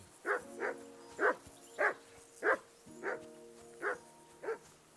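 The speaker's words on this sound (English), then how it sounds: "I assume you can hear that damn dog of yours barking." In the medieval open-world game Kingdom Come: Deliverance II, a dog barks eight times in an even, steady rhythm. The barks are moderately distant and fairly quiet, with little else around them.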